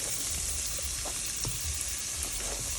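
Carrot, celery and onion sauté in a mix of butter and olive oil, giving a steady close sizzle with faint crackles and a few soft stirring touches, no voices.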